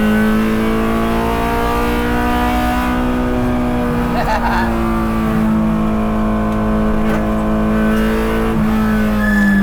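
Time attack Honda S2000 race car on track, its engine held at full throttle in first gear with a steady, loud droning rev that rises slightly, continuous and close throughout.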